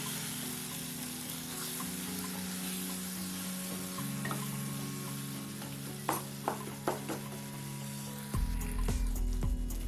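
Chilli, coriander and turmeric powders sauté in hot oil for a drumstick masala curry. A steady, close sizzle carries a few stirring clinks and scrapes, and it swells louder near the end.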